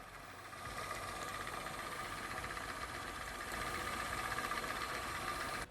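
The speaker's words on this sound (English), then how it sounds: "for the DC motor here, I'm using a peristaltic pump" A peristaltic pump driven by a small DC motor runs with a steady, even mechanical whir and hum that holds for several seconds before cutting off.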